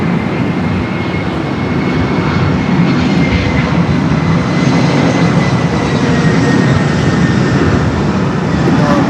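Airbus A319 jet on short final at Los Angeles airport, a loud, continuous broadband engine roar that holds steady and close for the whole stretch.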